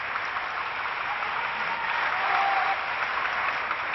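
Parliament deputies in Saigon applauding President Thieu in 1968: dense, even clapping from a large room, steady and sustained throughout, with a narrow, old-recording quality.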